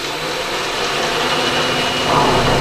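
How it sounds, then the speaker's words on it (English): A power drill boring a hinge hole in a bending brake base, a loud steady whirring grind held close for the whole short stretch. "I want to make sure I get all the drill bit out of there"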